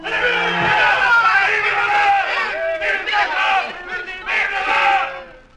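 A crowd in an old radio drama cheers and shouts loudly in rising and falling waves of massed voices, with some individual yells standing out, close and sustained throughout.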